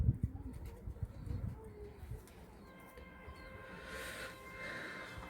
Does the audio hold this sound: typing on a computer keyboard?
no